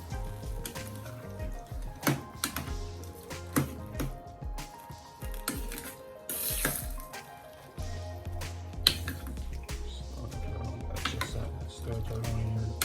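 A spoon stirs pork through sweet and sour sauce in a pan over low heat, giving scattered clicks, scrapes and soft wet squelches above a low background hum.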